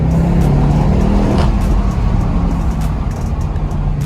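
BMW M850i accelerating hard on an autocross track, a loud close engine drone with a steady low tone that shifts pitch slightly as it pulls, no talk heard.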